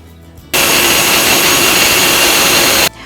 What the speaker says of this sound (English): I'm going to grind these mathani chilies in a dry grinder.